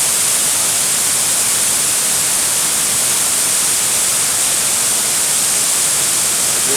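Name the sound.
waterfall rushing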